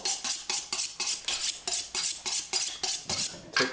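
A knife is honed on a sharpening steel in a kitchen with quick, bright metallic scrapes in a steady rhythm, about a dozen strokes, close and alone.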